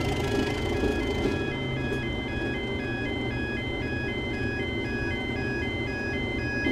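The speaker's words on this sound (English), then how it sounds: "We've even got the atmospheric crossing sounds." A level crossing alarm sounds in Train Simulator 2020 alongside an AP Class 37 diesel locomotive, ringing as a steady repeating two-tone electronic warble over a continuous low rumble.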